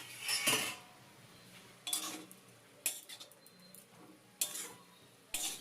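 Kalai greens stirred with a metal spatula in a pan, several separate scraping strokes with soft metallic clinks spaced a second or so apart, close and quiet over a faint background hiss.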